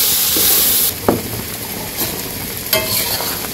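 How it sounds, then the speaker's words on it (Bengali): Spices with turmeric and chili sizzle and hiss in a hot pan for village-style chicken curry, a loud frying burst at first that settles into a softer crackle, broken by a few sharp stirring scrapes. "হলুদ মরিচ দিয়ে ভালো করে মিশিয়ে নিই। তারপরে ভালো করে আরেকটু ভাজতে হবে।"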